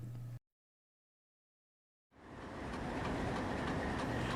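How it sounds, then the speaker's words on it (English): A heavy freight train rolls through a rail junction at the Steamtown wye, a steady broad rumble with rail noise rising after a brief cut to silence and continuing loud and unbroken to the end, no talk. "The train that we see here is using the south leg of the Y and is moving into Steamtown"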